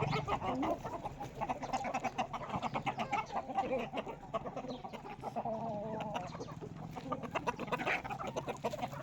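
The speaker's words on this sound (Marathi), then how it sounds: "सगळीकडे पसरते ते कोंबड्या" Chickens cluck continuously in a busy, overlapping chorus of short rhythmic calls, close and fairly loud, with no one speaking.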